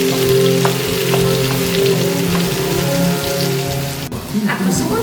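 Diced eggplant added to goulash sizzles loudly in a pan, a dense continuous crackle close up, with a few scraping stirs and a brief clatter near the end.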